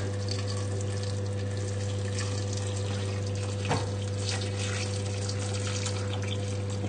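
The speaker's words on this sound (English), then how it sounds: "in with your stock." Stock poured into a soup pot while making a winter vegetable soup, a soft steady liquid stream running throughout over a constant low hum, with a brief knock midway.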